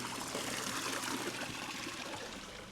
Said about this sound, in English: Got this really nice little water feature here.